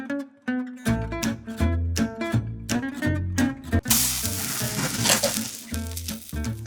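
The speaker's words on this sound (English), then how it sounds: "I can sear this up while you're cutting." Tuna steak sears in a hot pan, a loud crackling sizzle that surges in bursts while music plays underneath; no one speaks.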